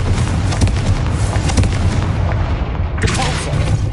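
Spell blasts in the video game Hogwarts Legacy, Confringo fire bolts booming and crackling in a dense, continuous barrage of loud impacts with a sharp burst near the end.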